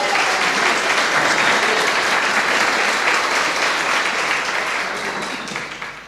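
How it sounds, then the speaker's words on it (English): Meetup audience at a Sofia crypto community gathering applauds a co-founder's birthday with steady, dense clapping that holds for several seconds and tapers slightly at the end. "a round of applause for him"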